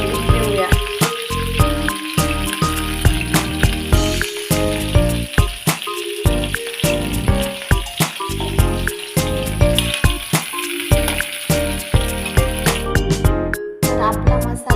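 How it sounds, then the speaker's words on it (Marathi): Onions sautéing in hot oil in a kadai, a steady crackling sizzle with rattling metallic clinks of stirring, close and continuous throughout. "कांदा परतून घेऊया"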